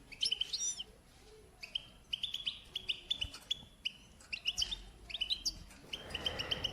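A caged, newly caught goldfinch chirps in quick bright bursts of twittering notes, repeated through the stretch with brief pauses, fairly close and moderately loud.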